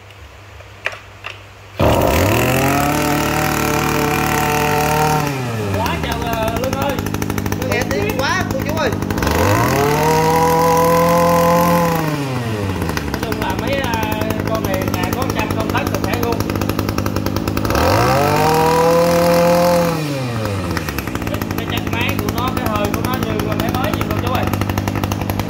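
A Japanese lawn mower engine starts and runs, its loud, steady drone rising and falling three times in revving swells, while a person speaks over it.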